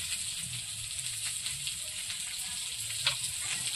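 Turmeric, salt and ground chilli frying in a pan for a village-style river fish curry, a soft continuous sizzle close by with faint stirring.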